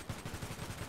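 Rapid automatic gunfire in the video game FiveM, a quick rhythmic string of muffled shots repeating evenly over a single second, fairly faint.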